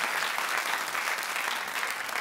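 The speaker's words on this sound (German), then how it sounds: "Bürgerlicher Applaus." A TV panel show studio audience claps steadily in dense, even applause that continues throughout without fading.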